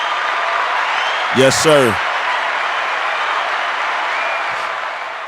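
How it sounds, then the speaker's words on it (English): Steady applause from an audience at the opening of a podcast show runs throughout as a continuous wash, and a voice briefly speaks over it near the middle. "Round of applause, man."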